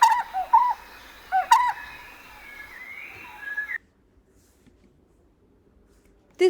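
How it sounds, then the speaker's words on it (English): Barbet bird calls: repeated mellow hooting notes with whistled tones, loud and close, for several seconds before stopping abruptly into silence, followed by one brief final note. "This collection of bird calls is from Xenocanto, a website that has a huge collection of bird calls."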